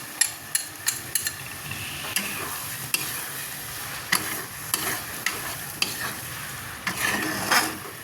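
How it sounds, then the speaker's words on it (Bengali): Cream being stirred into cooking greens in a hot pan, gentle sizzling under repeated sharp taps and scrapes of a spoon against the pan at an irregular rhythm. "ক্রিমটা দিয়ে ভালো করে মিশিয়ে নেব"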